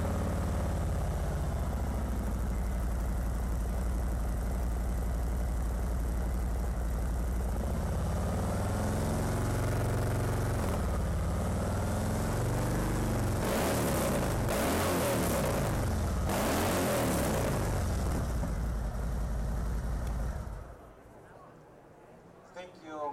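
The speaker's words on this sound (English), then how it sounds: "So stock bike, and now the new Screamin Eagles." Harley-Davidson motorcycle idling, compared on stock and Screamin Eagle exhausts: a loud, steady low rumble running throughout, turning rougher with revs partway, then cutting off near the end.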